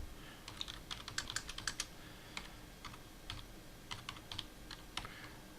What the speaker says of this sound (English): if I need to put in a paragraph, I just type in P and away we go.